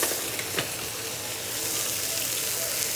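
Steaks sizzle steadily in a hot pan, a continuous bright crackling hiss with a few small pops near the start.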